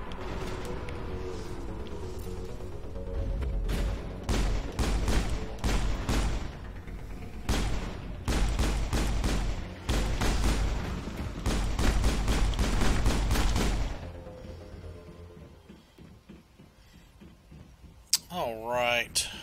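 Gunfire rings out in Mass Effect as loud bursts of rapid automatic shots come in several clusters, then things go quieter, with a voice speaking near the end.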